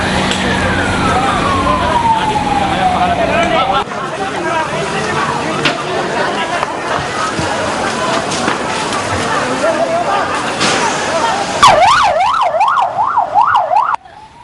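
Fire engine sirens sound at a fire at the Bandaranaike Memorial International Conference Hall: a long falling wail, then a rapid rising and falling yelp near the end, loud, with a voice speaking over them.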